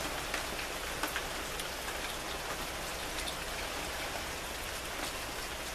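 Steady rain falls during a storm, a dense, constant hiss of drops hitting surfaces with no pauses and no voices.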